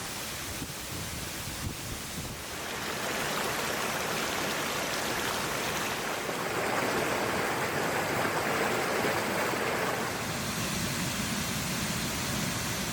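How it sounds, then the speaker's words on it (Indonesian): A 30-metre waterfall, Jantur Inar in Kutai Barat, Indonesia, roars steadily nearby, a dense broadband rush of falling water that swells a little louder after the first few seconds and holds. "Berada di depan air terjun Inar dengan ketinggian sekitar 30 meter"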